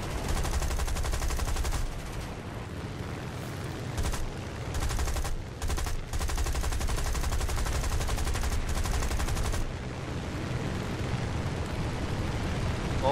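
Dense, loud gunfire from the combat video game War Thunder fills the whole stretch, rapid bursts overlapping with heavy booming blasts and a few brief gaps, with no talking over it.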